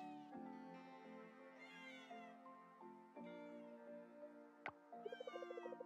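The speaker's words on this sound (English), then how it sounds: "Where are all these cats coming from?" Several cartoonish cats in the farming video game Coral Island meow repeatedly, with overlapping high, drawn-out mews and a quick rhythmic run of short calls near the end, clear and close.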